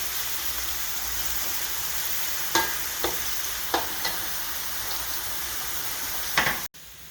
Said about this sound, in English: You have to cook that in the oil a little, the garlic and the onion,